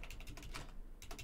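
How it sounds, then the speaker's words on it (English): Computer keyboard typing for a League of Angels 2 search, a quick run of close, light key clicks in an irregular rhythm with a brief pause before a few final taps, quiet overall. "We'll actually type that"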